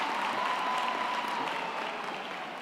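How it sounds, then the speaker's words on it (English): Sustained applause from a graduation ceremony audience honoring graduates receiving diplomas with distinction, a dense, steady wash of many hands clapping throughout, fairly even in level and fading slightly at the end. "give them a round of applause"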